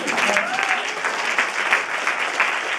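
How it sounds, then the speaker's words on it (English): Audience applause at a conference session, a steady dense wash of many hands clapping fairly close, continuous throughout with no break. "I should say we give them applause."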